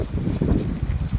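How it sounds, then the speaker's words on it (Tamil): Wind gusting in a steady low rumble against the microphone in a rural village, with no voices, over a brief moment. "காற்று தான் அடிக்குது."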